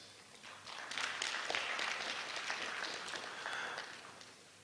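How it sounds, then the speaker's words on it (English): Thin, scattered applause from graduates at an induction ceremony, soft patter of clapping rising and hanging at a modest level for several seconds before easing off. "If that's how weakly you, the graduating class, clap for yourselves"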